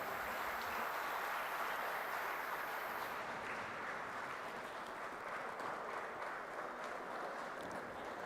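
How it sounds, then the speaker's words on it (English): Audience applause fills a hall at the valedictory function of an endowment lecture series, a steady, even wash of clapping that continues throughout with no voices over it. "A big round of applause once again"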